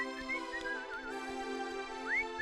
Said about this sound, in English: He was busy oiling his screws and was whistling away.